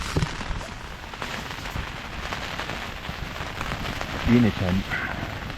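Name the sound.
wind and rain on a tent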